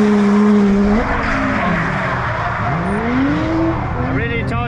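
Drift car at a drift matsuri event, its engine note climbing and then dropping as it shifts into fourth gear, loud and close with tire noise and a voice over it.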